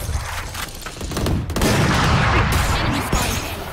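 Gunfire in the tactical shooter game Valorant, a loud burst of rapid shots rising after a quieter start and sustained near the listener for a couple of seconds.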